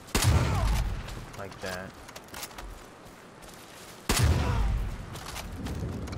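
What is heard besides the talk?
shotgun firing in Far Cry video game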